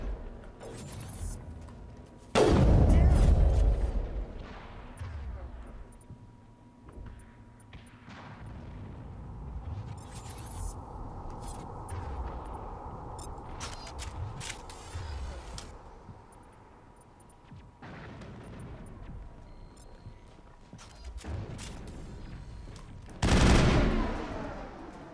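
Mass Effect video game combat: two heavy grenade blasts, near the start and end, with bursts of rapid gunfire and crackling battle noise between them, loud and sustained.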